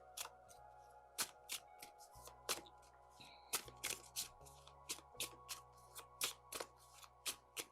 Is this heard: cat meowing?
no